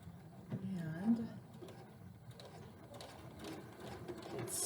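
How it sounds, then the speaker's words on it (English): Sewing machine stitching a straight hem in knit fabric with a twin needle, a steady low running hum through the clip, fairly quiet, with faint talk over it. "I'm basically just sewing straight all the way around, and I'm feeling my hem and making sure that the needles are catching it"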